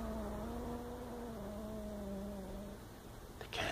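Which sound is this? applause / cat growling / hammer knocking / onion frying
cat growling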